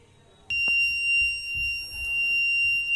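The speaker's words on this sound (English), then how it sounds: "So we can see now this buzzer is ringing" A piercing electronic temperature alarm buzzer on an IoT monitoring project switches on abruptly and keeps sounding in a steady, unbroken tone over a faint low hum.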